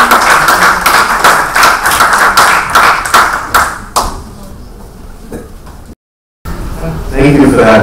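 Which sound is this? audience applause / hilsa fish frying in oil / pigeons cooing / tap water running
audience applause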